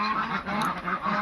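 Ducks kept for sale give several close, nasal honking quacks in a short, busy burst.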